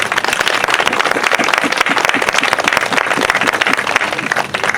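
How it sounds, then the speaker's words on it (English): A crowd at an outdoor rally in El Estero Park, Monterey, California, claps steadily and densely for the whole stretch, loud and close, with no talk over it. "You can have a round of applause for Reyes."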